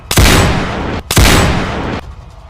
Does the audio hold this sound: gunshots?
yes